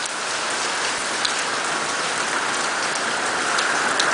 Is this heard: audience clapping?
no